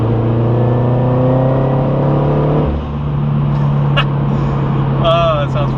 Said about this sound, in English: the exhaust is certainly a lot louder, a lot more sort of bassy and boomy